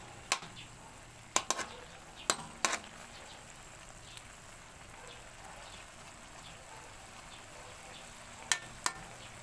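Squid adobo simmers in a pan with soft sizzling throughout, punctuated by several sharp clinks of a utensil stirring against the pan, quiet and close.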